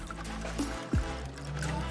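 Water poured into a pot of stewed eggplant, a brief quiet trickle and splash near the middle, faint over a low steady kitchen background hum.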